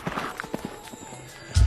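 Horse hooves clip-clopping on a city street, a short run of separate, fairly close knocks in an uneven walking rhythm, then a louder burst of noise at the very end.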